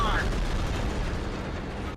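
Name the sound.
shell explosions from a video game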